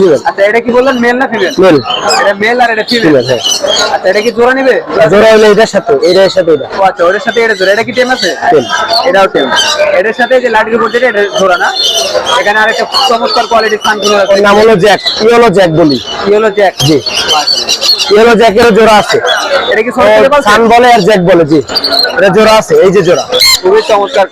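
Several lory parrots and other birds squawk and chatter close by in the busy Mirpur bird market, under nearly constant conversation between people.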